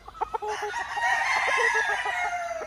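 A big green-legged lemon stag crows at a game farm. A few short clucks come first, then one long, loud, drawn-out crow that fills the rest of the moment nearby.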